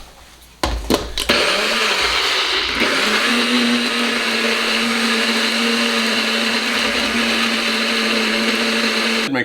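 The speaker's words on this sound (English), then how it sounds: "Make sure you blend this really, really well" A blender starts up after a few short clunks, then runs loud and close at a steady high whir while it blends chipotle mayo sauce, with no talking over it.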